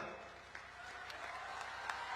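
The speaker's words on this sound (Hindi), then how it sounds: "और जम्मू वालों, जोर से ताली बजाना।" Applause from a crowd at a political rally in Jammu, a faint, even patter of clapping that runs throughout with a few sharper claps standing out.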